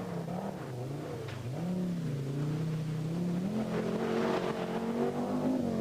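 Audi Quattro ploughing through deep puddles up to its wheel arches, the engine revving and climbing in pitch while water hisses and sprays steadily close by.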